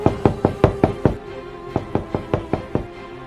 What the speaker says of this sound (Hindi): तभी हमारे कमरे का दरवाज़ा किसी ने खटखटाया।